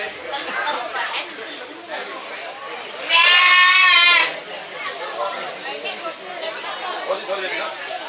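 A goat bleats once in a loud, sustained, wavering cry during a Dashain festival ritual in Nepal, rising above a steady murmur of crowd chatter and voices that continue before and after.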